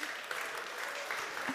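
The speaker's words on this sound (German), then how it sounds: "Einen herzlichen Applaus bitte" Brief, soft applause from a conference audience welcoming a speaker to the stage, distant and fading quickly.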